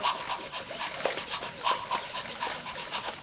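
An excited dog whimpering and yipping, a continuous run of close high-pitched whines and squeaks repeating rapidly and unevenly with no talking.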